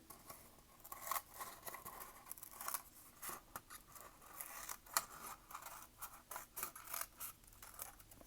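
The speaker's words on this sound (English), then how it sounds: "I'm just going to cut this excess off." Scissors snip away excess from a cardboard toilet paper roll for a craft, giving faint, close scratchy cuts and rustling in an uneven rhythm, with no voices.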